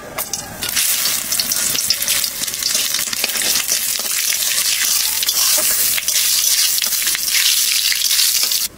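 Dried red chillies, bay leaf and cumin seeds crackle in hot oil, a loud, dense, continuous sizzle with the occasional stir scraping through it, and no voices.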